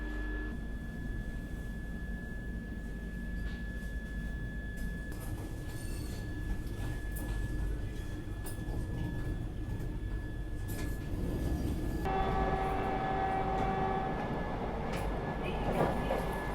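A passenger train pulling out of Lucknow, a steady low rumble of wheels and carriage noise throughout, with a faint tonal whine and a shift in tone near the end as it gathers pace.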